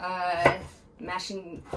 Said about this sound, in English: Start chopping the potato.